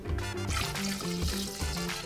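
Tequila pours steadily into a pitcher in a busy liquid stream, with a gurgling, splashing flow lasting a couple of seconds.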